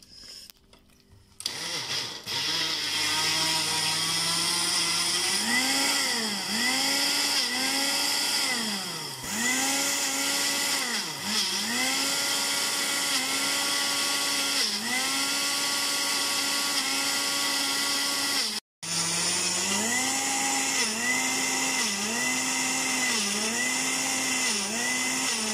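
Electric grinder churning sesame into thick tahini paste, a loud continuous motor whine that rises and falls in pitch as the paste loads and frees the blades, with one brief cutout partway through.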